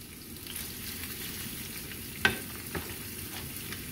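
Pork fat heats in a pan for chicharrones with a steady, gentle sizzle and frying hiss. A couple of brief sharp clicks or stirring taps stand out midway, and no one talks.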